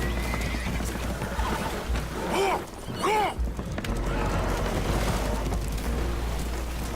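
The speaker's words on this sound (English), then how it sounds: "Horses are spooked" Spooked horses whinny loudly twice in quick succession in Red Dead Redemption 2, over a constant rumbling, watery background of a boat taking on water, with hooves and splashing around them.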